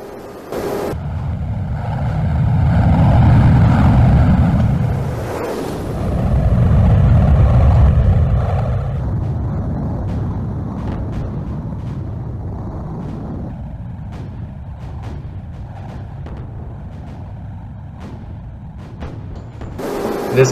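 Engine roar of a Me 262-A1 jet fighter flying over Germany in the WWII VR game Gunship Sequel, a steady loud drone that swells twice early on, then settles into an even hum with faint clicks.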